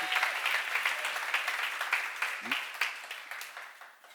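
Church congregation applauding during a Korean seminar service, a dense wash of many hands clapping at steady volume that gradually fades toward the end, with a brief voice partway through.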